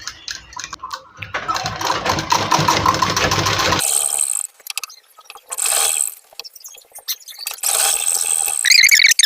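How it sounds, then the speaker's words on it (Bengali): A sewing machine stitches a kameez in close, loud mechanical bursts, with a long rattling run followed by several shorter start-stop runs separated by quiet pauses. "এটার উপরে এবার সেলাই দিয়ে দেবো"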